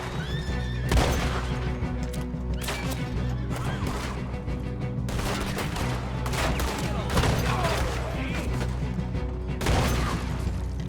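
Gunfire in the video game Red Dead Redemption 2 comes as rapid bursts of shots and crashes mixed with a horse's neighs and hoofbeats, loud and chaotic throughout.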